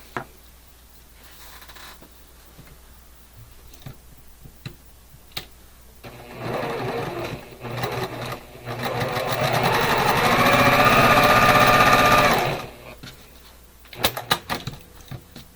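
A sewing machine stitches quilt block fabric, running in a steady whir for several seconds between quieter handling sounds and a few clicks.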